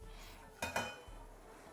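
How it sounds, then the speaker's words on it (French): Dishes and cutlery clatter as they are loaded into a small dishwasher, with two quick, moderately loud clinks close together against a quiet room. "je vais remplir le petit lave-vaisselle aussi ici"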